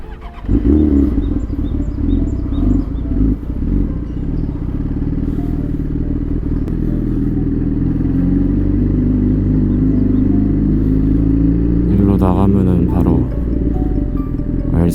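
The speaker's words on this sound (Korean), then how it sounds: "잠시 오토바이를 돌려야 돼요." A Yamaha R6 sport motorcycle rumbles steadily up close at low revs while being turned around, with a brief surge of engine revving near the end.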